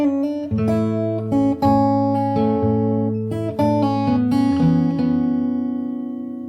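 Fingerstyle acoustic guitar plays a passage from a song, plucked notes and bass strings ringing in a steady, sparse rhythm with brief pauses between phrases, close and clear with no voices.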